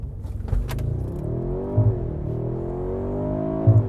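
A 2025 Mercedes-AMG G63 with a 577-horsepower V8 launches off the line, a deep rumbling engine note climbing steadily in pitch as it accelerates hard, loud and close, with a brief jingle of keys early on.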